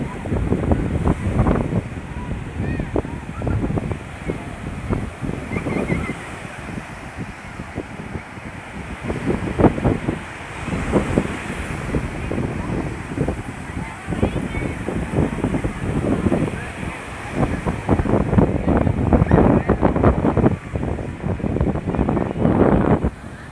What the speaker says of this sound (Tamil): கடல் மாதாவை பார்க்குறதே தனி அழகு தான் அலைகள் எவ்வளோ அழகாக வீசுது பாருங்கள்